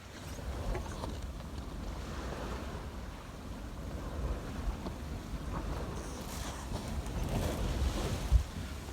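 A sailboat under sail on the open Pacific between Panama and the Galapagos, near the equator: wind rushes across the microphone over washing waves, a steady roar with gusts swelling toward the end and no one speaking.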